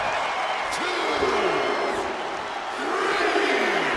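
Wrestling arena crowd roaring and cheering continuously at a loud, steady level, with a commentator's voice audible over the dense crowd noise.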